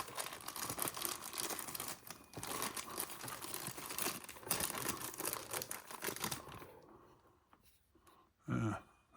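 Plastic packaging from a Tamiya TT02 Porsche 911 GT3 992 RC car kit crinkles and crackles steadily up close, then falls nearly silent before one last brief rustle at the end.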